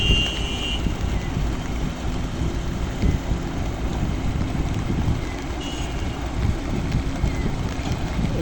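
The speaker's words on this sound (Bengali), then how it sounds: "ড্রেজার দিয়ে আমরা বালি নিয়ে আসতেছি।" A dredger pumps sand for land filling beside the Dhaka–Barisal highway, making a steady, rumbling engine-and-water roar that continues throughout with light wind noise and no speech.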